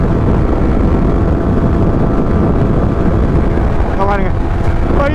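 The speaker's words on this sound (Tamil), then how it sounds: "ஆனால் வின் பிளாஸ்ட்டுங்க, மோசமான வின் பிளாஸ்ட்டு." Roaring wind blast on a Yamaha R15 V3 motorcycle ridden near top speed, a loud constant buffeting rush with engine drone beneath, and a brief tonal whine near the end.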